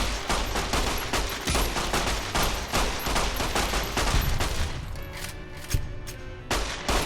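Rapid bursts of gunfire in Fallout: New Vegas, loud and dense shots overlapping almost continuously, thinning into scattered single cracks near the end, with no talk.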